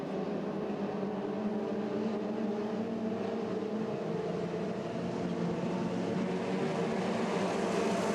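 Hydroplane race boat engines scream at full throttle during a race at St-Félicien, giving a loud, sustained high drone with steady harmonics that hold across the whole stretch.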